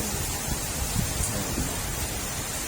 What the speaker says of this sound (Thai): ฝนตกพอดีนะ